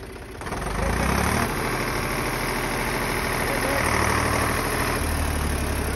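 A 485 tractor engine runs steadily nearby, a dense continuous diesel rumble with a rattling mechanical texture that swells slightly after the first second and holds loud throughout.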